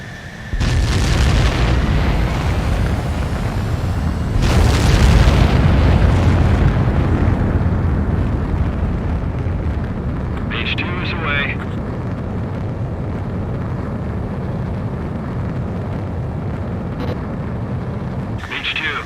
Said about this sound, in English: H2, begin takeoff sequence. You're cleared for launch.